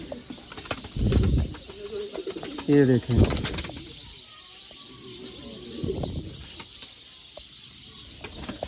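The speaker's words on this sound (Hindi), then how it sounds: "ये दोस्तों बड़े लेवल के, शौकीन लेवल के ब्रीडर कबूतर हैं" Breeder pigeons of a fancier's stock give soft cooing calls with a few wing flutters, close by, while someone talks over them at intervals.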